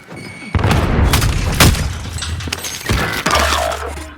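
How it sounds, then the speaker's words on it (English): In a military shooter video game, a grenade blast booms loud and close, followed by scraping debris, thuds and further sharp impacts across several seconds. "Throwing grenade."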